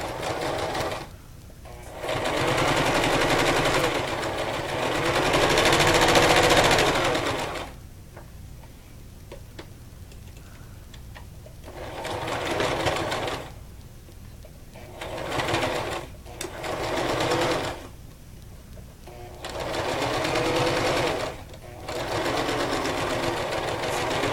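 Sewing machine stitching ribbon onto a fabric tic tac toe game, running in bursts of steady rapid needle chatter separated by short pauses, close and clear.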